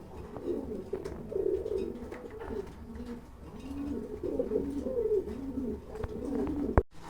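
Several pigeons cooing continuously and overlapping at a pigeon farm, close and moderately loud, with a brief sharp knock near the end.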